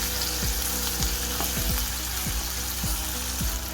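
Chopped chillies sizzling in hot oil in a pan for a dry sprouts curry (baazi), a continuous crackling fry with periodic bubbling pops, close and steady with no talking.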